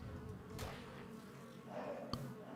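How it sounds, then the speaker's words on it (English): Insects buzz in the Ark Survival Ascended game world, a faint, steady drone lying low in the mix, with a couple of soft knocks and no speech. "I hear the bugs. I don't see them."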